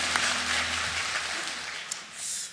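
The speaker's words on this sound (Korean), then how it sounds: "우리 박수로 환영하도록 하겠습니다." A Sunday-service congregation at Jeonpo Church applauds in welcome, a soft, spread-out patter of clapping heard from a distance that tapers off within a few seconds.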